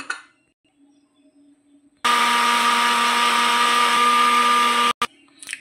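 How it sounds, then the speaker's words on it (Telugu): A mixer grinder blends tomato, garlic, green chili and ginger, a loud, steady motor whine lasting about three seconds and then stopping abruptly, with quieter handling sounds before and after. "ఇవన్నీ మనం మిక్సీ చేసుకోవాలండి."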